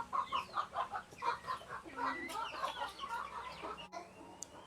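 Free-range village chickens clucking, a run of rhythmic, repeated clucks and squawks from several birds nearby, loud at first and then trailing off against a quiet outdoor background.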